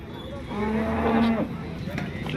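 Cattle at the Modnimb cow market give a single long, loud moo with rich low harmonics, close to the listener, over a steady background of market crowd noise.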